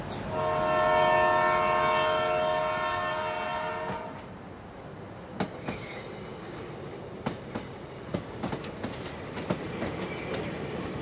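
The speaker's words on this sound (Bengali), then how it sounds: "রঙ্গিয়া জংশনে ভোরবেলা ট্রেন পৌঁছল।" A passenger train carrying crowded travelers toward Assam sounds a long loud horn blast, then rolls on with a steady rumble and rhythmic clickety-clack of wheels over rail joints.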